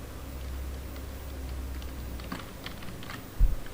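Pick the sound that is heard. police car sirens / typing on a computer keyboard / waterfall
typing on a computer keyboard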